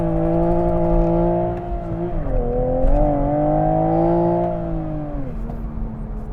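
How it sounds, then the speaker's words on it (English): A Toyota car with a manual gearbox and auto rev matching makes a traction-control-off launch. The engine drones loud and steady, dips briefly, then climbs and holds a strong revving tone, with no talk. "I guess I owe you guys a full traction off launch."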